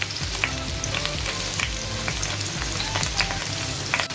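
Chopped onion, French beans and carrot frying in a pan with ginger and garlic for Indian-style pasta, a steady dense sizzle with scattered crackles and light stirring scrapes, close and continuous with no talk.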